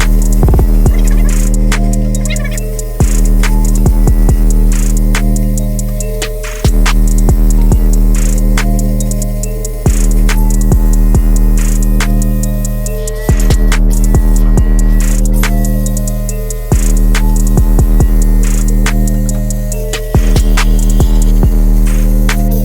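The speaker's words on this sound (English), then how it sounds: "I think I'm going to go ahead and use this the plasma cutter because it'll be a lot faster" Plasma cutter slicing through sheet metal on a 1970 Plymouth 'Cuda rebuild, a steady loud electrical buzz and hum running throughout, broken by short cuts and restarts every few seconds with crackly ticking on top.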